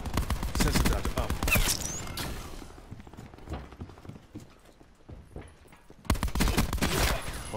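Gunfire crackles in the Call of Duty: Black Ops 4 video game, with dense bursts of rapid shots at the start and again at the end and quieter scattered action between them.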